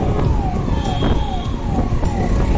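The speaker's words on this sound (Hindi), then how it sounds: "कोई सा भी ऑफिस एम्बुलेंस को साइड देना जरूरी है।" An ambulance siren wails on National Highway 72 between Dehradun and Vikasnagar, where a large heavy vehicle has caused a traffic jam. Repeated falling wails sound fairly loud over a steady rumble of road traffic.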